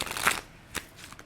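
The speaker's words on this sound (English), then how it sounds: "Let's shuffle this up again." Shuffling of a bendy-cardstock oracle deck, the Terra Volatile, heard close and faint: a brief riffle of crisp card flicks, then two short separate snaps.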